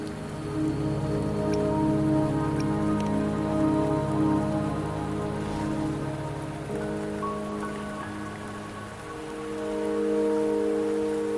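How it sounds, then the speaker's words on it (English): Steady rain falls through a cutscene in the Wuthering Waves game on the way toward Mount Firmament, a continuous close patter on surfaces layered with a sustained musical score, with no voices. "Don't worry, the rain won't last much longer."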